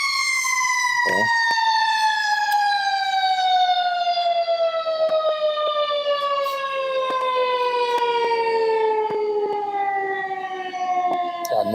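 A fire engine siren wails continuously, its pitch slowly falling as it sounds loudly nearby, with faint clicks and noises underneath.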